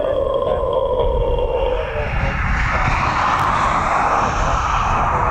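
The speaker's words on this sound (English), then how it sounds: "TUI Dreamliner going into Manchester." A TUI Boeing Dreamliner airliner flying overhead, a loud, steady engine roar with a descending whine, sustained and fairly close throughout.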